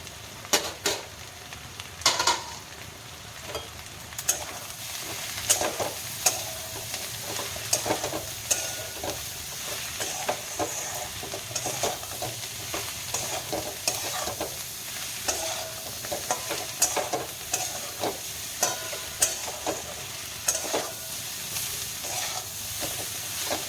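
Vegetables with chillies, salt and turmeric for a rohu fish curry fry in a pan, a continuous soft sizzle punctuated by frequent scraping and tapping of a spatula as they are stirred, with no talking.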